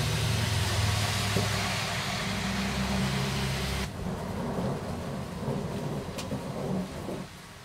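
A deep rumbling roll of thunder with steady rain hiss, loud and broad, easing after a few seconds into quieter rainfall with a faint crackle.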